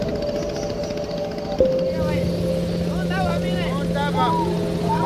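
A motorboat cruises along a rainforest river on Papua island, its steady engine drone and hum running throughout, close and continuous, with a pitch shift partway through and people talking over it.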